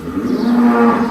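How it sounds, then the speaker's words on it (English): A cow moos once in a long, loud, close bellow on a farm where a hoof is being trimmed, the low drawn-out call filling the short moment alone. "Noisy cow in the background there"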